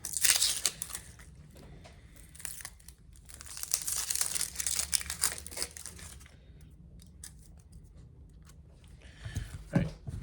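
Dry, papery onion skin being peeled off by hand for caramelized onions, giving a close, soft run of crinkling and crackling bursts with quieter gaps, no talking.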